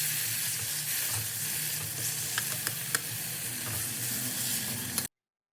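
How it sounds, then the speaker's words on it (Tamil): Small chopped tomatoes and onions sautéing in a hot pan for a South Indian Kumbakonam kadappa, a steady close sizzle with a few light stirring clicks, ending abruptly. "3 சின்ன சைஸ் தக்காளியை பொடியாக கட் பண்ணி போட்டு நல்லா வதக்கி விட்டுக்கலாம்"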